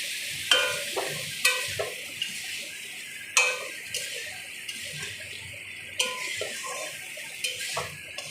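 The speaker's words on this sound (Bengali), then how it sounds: "আমার সিদ্ধ করা মটরগুলো দিয়ে দেবো, দিয়ে একটু নাড়তে থাকবো" Boiled peas being stirred in a frying pan, a spoon scraping and knocking against the pan in irregular strokes over a soft background sizzle, close and fairly quiet.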